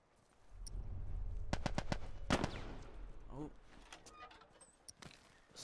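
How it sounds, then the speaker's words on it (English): Assault rifle gunfire in The Last of Us video game, several sharp shots and short bursts in quick succession, while a person talks over the action. "Assault rifle, you have to look out for that."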